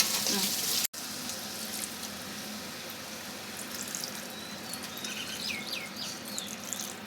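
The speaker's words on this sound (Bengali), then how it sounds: "এবার ভেজে রাখা এই চিংড়িগুলো একটু দিয়ে দিলাম এর মধ্যে। এবার ভালো করে নাড়িয়ে নিয়ে" Fried prawns sizzling and being stirred in masala for prawn malaikari, a steady hiss broken by one brief dropout, with faint chirping high over it.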